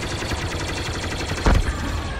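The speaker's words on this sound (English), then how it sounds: "Our ships are taking fire from enemy starfighters" Starfighter blaster fire during a Star Wars Battlefront II starfighter assault, a steady rapid stream of shots over engine roar with one louder impact burst near the end.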